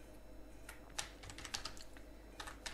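Rapid irregular clatter of keys on a computer keyboard as code is typed, close and fairly soft, with small bursts of faster strokes and no talking.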